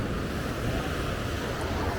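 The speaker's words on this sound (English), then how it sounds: "Palm trees, the best water you can get, the best beach you can get." Surf washes onto a beach at Sosua in the Dominican Republic, a steady broad roar of waves mixed with wind noise, with no voices and no distinct breaks.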